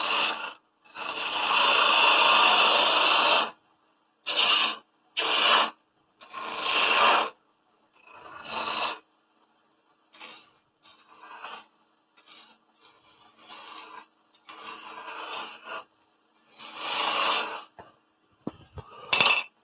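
A small gouge cutting a cone-shaped wooden Christmas tree on a wood lathe, loud rasping bursts of shaving in separate passes, the later cuts lighter and more intermittent, with short pauses between.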